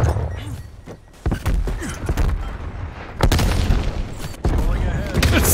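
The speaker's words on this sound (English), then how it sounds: "So many grenades being chucked in that room." Grenade explosions thumping inside a room during a video game shootout, several heavy booms and thuds in quick succession amid ongoing combat noise, with people talking over the action.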